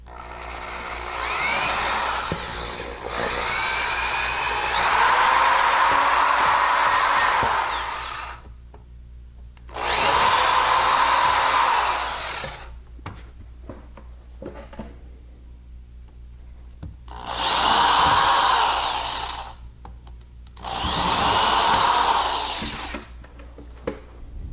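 A power drill widens holes in a plastic housing for wall anchors while a Honeywell 5800PIR-RES wireless motion detector is being installed. It gives four loud, close whirring bursts of a few seconds each, with short quiet pauses between them.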